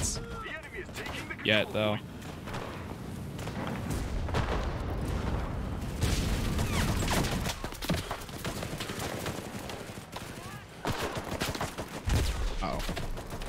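Dense gunfire and distant booms roll through a Pacific War battle in the shooter Enlisted, sustained and fairly loud, with someone talking briefly over it.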